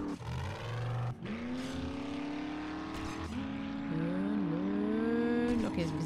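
Car engine in the 7 Days to Die game, driving toward a snowy area, with a steady droning hum that rises and shifts in pitch as it accelerates, running continuously at moderate level with brief gaps between gear changes.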